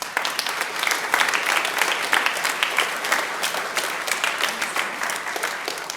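Students and guests at an elementary school veterans assembly applaud warmly, a full, lively wash of clapping with many individual claps audible, sustained at a steady strong level throughout.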